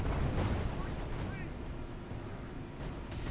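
Continuous rumbling battle noise from soldiers firing in a war strategy video game, with dense low booms and gunfire blending into a steady loud roar.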